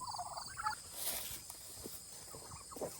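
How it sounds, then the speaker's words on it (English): Baby turkeys in a backyard coop give soft, faint peeping chirps and gobble-like trills, a few short calls spread across a quiet background. "We ready to go for a walk, baby turkeys?"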